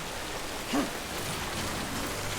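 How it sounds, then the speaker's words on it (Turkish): Acid rain in Death Stranding falls as a steady hiss of rain, moderate and unbroken across the whole stretch, with one small brief tonal blip early on. "Taşıdığım malzemeler yağmurda, asit yağmurunda."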